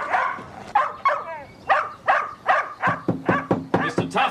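Repeated barks and yips from a dog behind a house during a police check, coming in short bursts with a low steady hum underneath and a brief whimper between barks.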